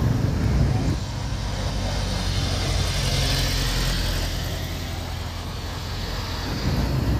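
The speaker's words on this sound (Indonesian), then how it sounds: "Kita melihat satu unit truk interkuler berwarna biru sedang mencoba menanjak dia." A blue intercooler truck labours up a steep hill in Sumatra, its mid-pitched engine droning continuously and loudly, with steady road rumble and no clear talk.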